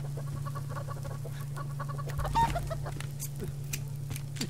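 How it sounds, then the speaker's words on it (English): Chicken clucking from a bird running loose in the survival game Subsistence, a few soft clucks over a steady low game hum with a brief louder thump midway. "Why is there a chicken running around?"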